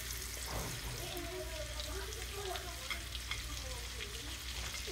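A ribeye steak sizzles loudly and steadily in a cast iron pan while garlic and herb butter with rosemary and thyme is spooned over it, the frying hiss continuous and close, with a faint voice in the background.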